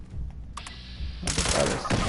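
A turret in the video game Fallout 76 opens fire in two rapid bursts, a short clatter followed by a longer rattling volley, fairly close and clear, with faint speech underneath.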